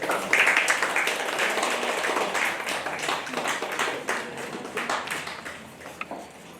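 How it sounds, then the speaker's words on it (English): A room full of people at a seminar applauds steadily, dense clapping that fades gradually toward the end. "Let's have a huge round of applause"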